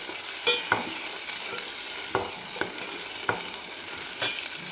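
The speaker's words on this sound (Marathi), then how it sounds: "छान ह्याला तेल सेपरेट होईपर्यंत आपल्याला याला फ्राय करून घ्यायचं" Masala fries in oil for egg curry with a constant sizzle, while a spoon stirs it in quick scraping strokes that land every half second or so, close up with no voices.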